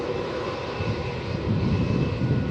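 A Jetstar Airbus A321neo jet in new livery at Melbourne Airport makes a loud, continuous broadband engine roar that swells slightly partway through, heard outdoors with no talking.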